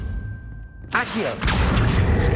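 Accio summoning spell cast in Hogwarts Legacy, a sudden swelling magical burst with a bright shimmering sweep, starting abruptly after a quiet moment and settling into a loud, dense magical wash.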